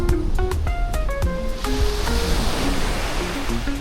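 Sea waves at high tide wash steadily onto a beach in Siruma, Bicol, forming a loud, continuous surf roar, with melodic tones ringing over it in the first half.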